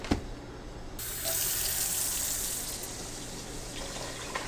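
A kitchen tap runs steadily to fill a measuring cup with water for pickle brine, a close, even rushing stream that strengthens after the first second and continues without pause.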